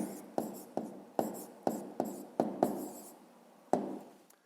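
A maths answer is written out by hand with a pen on paper, close and quiet, in a series of short, sharp strokes spaced roughly evenly over several seconds.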